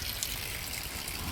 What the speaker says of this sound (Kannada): ನೋಡಿ ಈ ಥರ ನೀರು ಬೀಳುತ್ತೆ